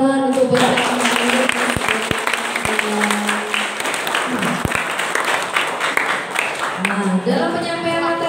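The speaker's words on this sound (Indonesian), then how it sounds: "Tepuk tangan untuk Bapak." Audience at a school teachers' session applauding the presenter, a continuous loud patter of many hands with voices mixed in and a few sharp taps.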